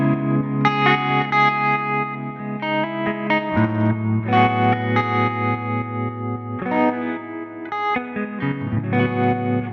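Electric guitar through an HX Stomp optical tremolo, set to lowered intensity and speed, plays chords and melodic lines with a steady pulsing tremolo, the volume throbbing rhythmically throughout; no voices.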